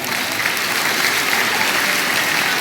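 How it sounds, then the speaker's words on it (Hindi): Steady, dense applause from a school audience at an annual results ceremony, sustained and even throughout with no pauses or voices standing out. "बेटे अपने साथी के लिए भरपूर तालियां बजाओ"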